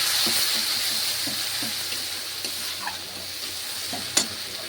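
Chili powder, turmeric and spices frying in oil in a pan for a fish-head chhyachra, stirred with a steady soft sizzle and repeated light scraping strokes, one sharper clink near the end, with no talk.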